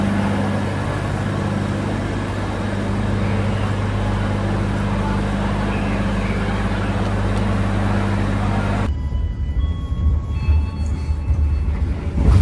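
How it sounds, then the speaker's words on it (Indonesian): An airport rail link train rumbles loudly and steadily from close by, a dense roar of wheels and carriage noise that cuts off abruptly partway through, leaving a quieter rattling, whining interior sound. "Ya, ini kereta bandara."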